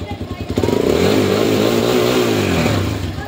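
A Vperman motorcycle engine, just push-started, revs hard and close up, climbing quickly to a sustained loud roar with sweeping pitch before easing back near the end.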